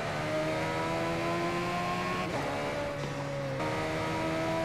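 In GTA San Andreas, a car engine holds a steady, buzzing high-rev drone with the accelerator held down, its pitch dipping and recovering a couple of times, loud and up close, with no talking.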